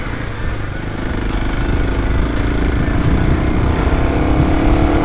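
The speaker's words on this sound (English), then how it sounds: "Second gear, full throttle, just doesn't want to go." Kawasaki KLX250 dual-sport motorcycle held at full throttle in second gear, a steady, loud, close engine drone that holds one laboring pitch for about five seconds without shifting.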